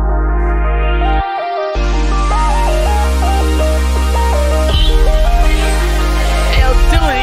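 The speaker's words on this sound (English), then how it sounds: "and then I also added a little kick and 808 drum buildup" A loud hip-hop beat intro with a stepping melody over heavy 808 bass, building into rapid kick and 808 drum rolls toward the end.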